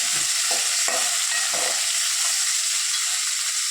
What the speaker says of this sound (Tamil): ரெண்டு வரமிளகாயும் கருவேப்பிலை, வெண்டைக்காய், இது நல்லா வதங்கணும்.